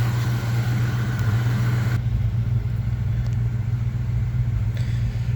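A 1975 Chevy C10 pickup truck's engine idles with a steady, close low rumble and even hum, running alone without talk for several seconds.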